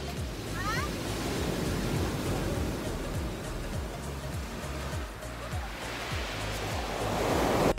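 Surf rolling steadily onto the Black Sea beach at Kobuleti, a loud continuous wash of breaking waves with swelling surges, while faint voices mingle in the background.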